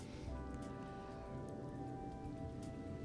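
Steady rain falls in Final Fantasy XV, a constant soft hiss of drops pattering on surfaces, continuous and even throughout, with a faint tonal hum beneath and no talking.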